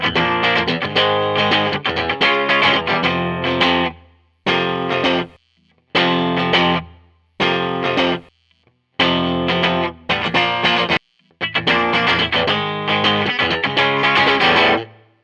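Distorted chords on a 1973 Fender Mustang electric guitar, played loud and close, in bursts separated by short silences, strummed in a driving rhythm.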